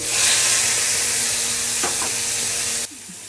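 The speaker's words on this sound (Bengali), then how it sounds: "পেস্ট করে রেখেছি, ওটা ঢেলে দিচ্ছি" Spice paste poured into a hot pan with oil, cardamom and bay leaf, giving a loud, steady close sizzle and hiss that holds throughout, then drops sharply near the end.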